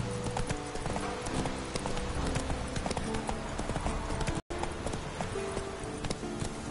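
Hooves of the horse Roach clip-clop in a fast steady gallop in The Witcher 3, loud and continuous, with a brief dropout near the end and no talk.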